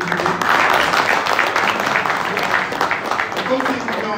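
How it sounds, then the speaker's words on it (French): Applause from the audience at a press conference for a real estate investment forum in Paris, a steady, dense wash of clapping lasting the full few seconds, with voices mixed in underneath. "J'aimerais un tonnerre d'applaudissements à tous les sponsors sélectionnés."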